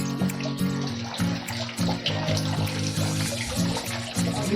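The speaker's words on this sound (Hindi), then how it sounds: "जिसके ऊपर अविरत पानी की वर्षा हो रही है" Water pours ceaselessly onto a Shivling in a temple, a steady splashing and trickling stream with a low, rhythmic pulsing beneath, close and unbroken.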